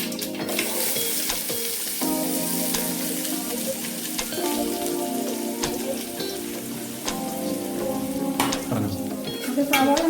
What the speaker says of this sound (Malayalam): അതിന് ശേഷം നമുക്ക് സവോള എണ്ണ വെച്ച് ആദ്യം ഇടാമേ